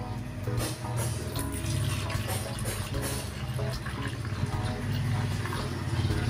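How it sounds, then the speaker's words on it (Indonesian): Water poured steadily into a homemade thick, foamy car and motorbike shampoo mixture, a continuous splashing, gurgling fill that runs the whole time, fairly close and loud, with no talk over it. "Selanjutnya kita tuangkan air. Kita tuangkan airnya ya."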